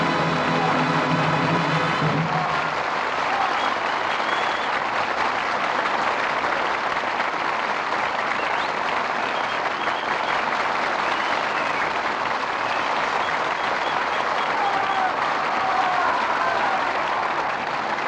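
Studio audience at a 1948 Lux Radio Theatre broadcast of The Jolson Story applauding, a loud, sustained wash of clapping that follows the last notes of music and continues unbroken.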